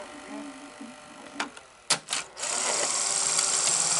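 A PAL Betamax VCR with a tape-eating fault whirs as it winds the tape back into the cassette, a few sharp mechanical clicks and clunks giving way to a steady, close motor hum.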